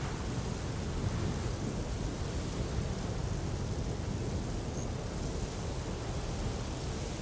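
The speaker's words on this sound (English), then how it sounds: "I think before this I actually heard a thunderstorm somewhere in the distance in the game." Distant thunderstorm in the game Horizon Forbidden West, a faint, steady low rumble with rain-like hiss spread evenly throughout, no distinct claps.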